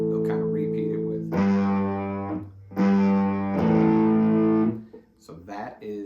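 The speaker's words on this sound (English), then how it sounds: "So that is the distortion part in the beginning." Electric guitar played through a gritty fuzz distortion pedal, sustained buzzy chords and notes in two long swells with short gaps, loud and saturated, with some picked notes around them.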